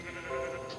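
A single short sheep bleat from Minecraft, fairly close and wavering, heard on its own without talk.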